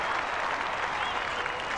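The North Melbourne cheer squad and the football crowd at a 1998 Carlton versus North Melbourne match applaud a goal, a dense, even roar of clapping that holds steady throughout without any talking.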